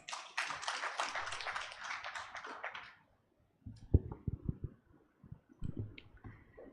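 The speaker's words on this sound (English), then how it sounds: "Let's give her a round of applause." Audience applause at the launch ceremony for the State of Uganda Population Report 2023, a dense burst of clapping for about three seconds that stops abruptly, followed by scattered louder taps and thumps.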